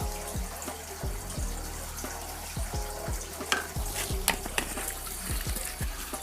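Slow stirring of polishing compound softened with a little gasoline, soft repeated scraping and wet swishing strokes in a quiet, regular rhythm with small clicks.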